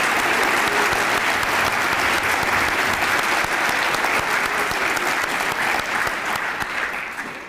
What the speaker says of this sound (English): Let's give Vern Eide a big round of applause for that legacy.